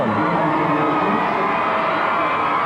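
A large crowd lining a Washington inauguration parade route at 13th and Pennsylvania roars and cheers in a loud, continuous wash of voices with no break.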